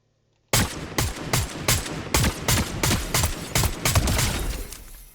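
Nine or ten rapid gunshots in a shooter game, fired in a steady, evenly spaced burst of sharp, loud cracks up close, with no voices over them.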